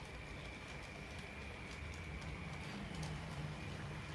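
A model train with a Class 31 locomotive hauling Mark 1 coaches climbs a curved incline from a standing start, producing a faint, steady rolling rumble with light clicking, heard close but quiet.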